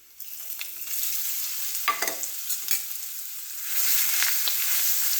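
Curry leaves, grated coconut, ginger, coriander and garlic paste sautéing in a pan with cumin and asafoetida for a drumstick curry, giving a continuous sizzle with scraping stirs and a louder hiss near the end.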